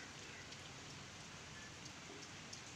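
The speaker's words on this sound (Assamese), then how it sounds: "আৰু এইয়া বৰষুণ" Light drizzle falling after a hot spell, a soft steady hiss of fine raindrops with occasional faint individual drips, quiet and even throughout.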